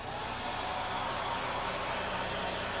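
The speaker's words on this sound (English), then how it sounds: "So I'm gonna hit this with our hair dryer." A hair dryer drying chalk ink blows continuously with a steady, even whoosh, moderately quiet and unchanging throughout.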